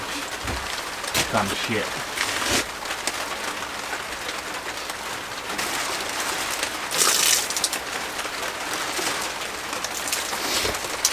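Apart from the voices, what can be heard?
rain falling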